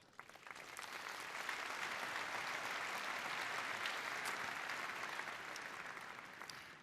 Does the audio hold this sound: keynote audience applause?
yes